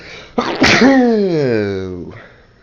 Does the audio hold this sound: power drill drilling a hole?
no